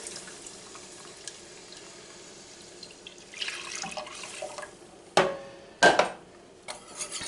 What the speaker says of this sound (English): we're going to add my milk, and I'm going to use around 4 cups of milk